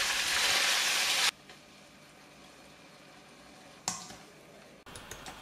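Beef frying in hot oil in a wok over medium heat, a loud hissing sizzle that cuts off abruptly after about a second, followed by quieter bubbling and a brief second burst of sizzling.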